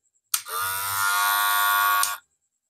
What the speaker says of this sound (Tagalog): Nice, maganda guys. Nice. Hair clipper.